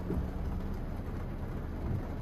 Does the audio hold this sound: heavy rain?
yes